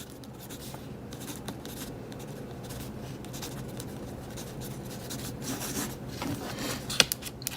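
Pencil lead scratching steadily across paper, a Pentel Graph Gear 1000 mechanical pencil with standard 0.5 mm lead, a soft continuous close-up rasp with small strokes and a sharper tap near the end.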